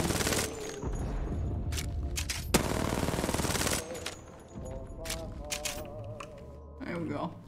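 Rapid bursts of automatic gunfire in the video game Apex Legends, loud and close, with a dense sustained volley in the middle and scattered shots around it over game noise and voices.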